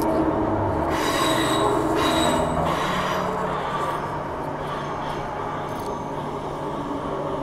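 Steel train wheels squeal loudly and continuously as a train pulls into Perth station, a sustained high-pitched screech over steady rumbling rail noise with no voices.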